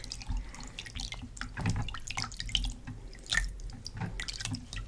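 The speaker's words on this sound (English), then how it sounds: "we're just going to rinse off the scrub off" Hands are rinsed of scrub in a bowl of water at close range, with soft repeated splashes, drips and trickles spread unevenly over a few seconds and no speech.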